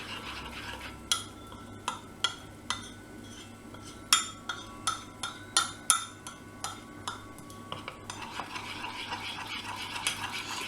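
Spoon clinking against the sides of a jug or bowl while chocolate melts, a steady run of sharp taps and scrapes roughly every half second, close and clear, with no talking.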